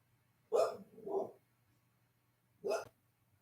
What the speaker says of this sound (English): My dogs are barking at something outside.